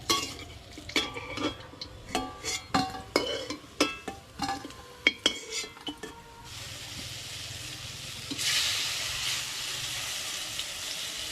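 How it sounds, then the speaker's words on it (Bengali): Dhoka lentil cakes frying in hot oil in a home kitchen, with a steady sizzle under repeated clinks and scrapes of a spatula against the pan, then a louder, continuous hiss near the end. "এখন ধোকাগুলো ভেজে নিচ্ছি"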